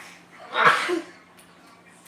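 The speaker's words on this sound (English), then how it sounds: "I don't like sneezing and cooking at the same time" A single sharp sneeze bursts out mid-clip in a home kitchen while dinner is being cooked, close and fairly loud, followed by a short breathy tail and quiet room background.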